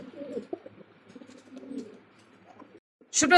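Satin pigeons coo softly nearby, low rolling murmurs that rise and fade, ending with a sudden brief clatter.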